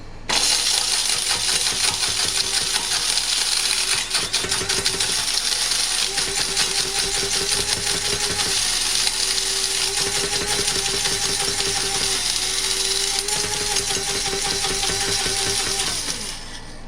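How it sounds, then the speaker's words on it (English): A grinder grinding dried turmeric into powder runs loudly and continuously, its high whir mixed with rattling, popping and ticking as hard pieces clatter inside. "We're going to keep grinding until you can't hear any more of that popping"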